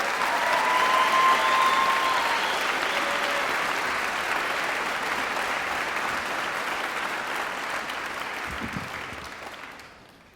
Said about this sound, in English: How about another round of applause for Mr. Béchamp?